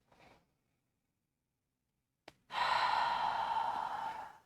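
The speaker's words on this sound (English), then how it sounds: "Another deep breath." A slow deep breath during a quick yoga practice, with a soft brief breath at the start, a pause, then a long steady exhale rushing out close and clear.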